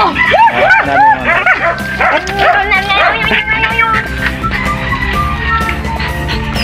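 Several dogs bark and yip excitedly up close, with whimpers mixed in, fading toward a lower rumble at the end.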